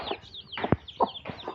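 A young chick, recently treated for illness, gives a few short, close peeps and soft clucking calls in quick succession, fairly faint and without any talking.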